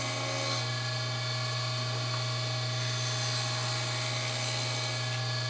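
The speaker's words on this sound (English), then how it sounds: "I'm going to cut another shallow rabbet around the face" A steady, high-pitched power tool whine with a constant hum underneath, running without pause as it cuts a shallow rabbet around the face of a wood piece.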